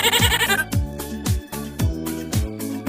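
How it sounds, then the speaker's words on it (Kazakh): A goat bleats once, loud and wavering at the very start, then gives way to backing music with a regular thumping beat. "Ешкі."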